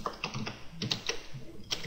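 Fingers type in quick, light, irregular clicks on a computer keyboard, close and fairly quiet, with no voices over it.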